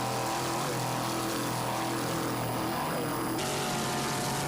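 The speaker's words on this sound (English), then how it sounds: "Just listen to that 390 horsepower Mercury inboard." A racing boat powered by a 390 horsepower Mercury inboard engine runs during an offshore powerboat race, giving a steady, loud, broadband roar and drone that holds throughout without pause.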